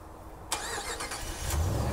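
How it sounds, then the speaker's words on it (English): A 2014 Ram 1500 pickup truck engine, remote started, cranks and catches, then settles into a steady, rumbling idle close by. "it does have the one-way remote start, so we're gonna push that twice"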